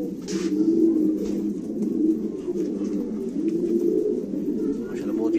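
A flock of fighter pigeons keeps up a continuous low cooing chorus, close and even in level, with a few brief higher rustles and chirps; a voice is also present.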